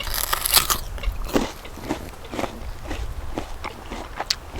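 Several crisp crunchy bites into a firm unripe Shinseiki Asian pear, each bite followed by crunchy chewing, close and fairly loud with no talk.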